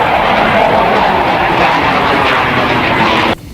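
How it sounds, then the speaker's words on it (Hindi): A loud, continuous roar of fighter jets and passenger planes passing overhead at an aviation exhibition, a broad sustained rumble that cuts off abruptly at the end. "एग्जीबिशन में यात्री विमानों के साथ लड़ाकू विमान भी अपना दमखम दिखाते नजर"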